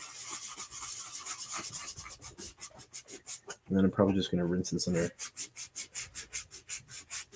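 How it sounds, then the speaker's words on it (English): Rapid rhythmic rasping strokes of sanding the finish off a plastic Rubbermaid container, steady and close, with a person talking briefly in the middle. "So why am I sanding this?"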